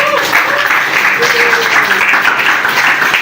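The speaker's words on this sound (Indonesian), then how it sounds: "Big applause dong buat panitia." Crowd applause for the organising committee at a Christmas celebration in a villa venue, a steady wash of many hands clapping throughout with a few faint voices mixed in.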